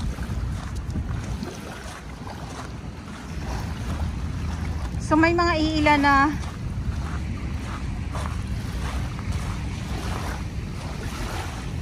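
Gentle waves lap at Manila Bay's Dolomite Beach while a soft wind rushes steadily underneath. A person speaks briefly partway through over the constant surf.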